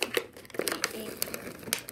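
Toy packaging is torn open with sharp, irregular crinkling and crackling bursts, close and loud, while people talk faintly in the background.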